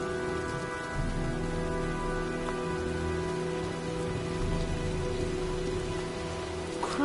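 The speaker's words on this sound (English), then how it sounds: "looks like a storm's coming." Steady rain from a storm in the video game Heavy Rain, a continuous dense patter on surfaces with a low rumble underneath, constant and moderately loud throughout with no voices.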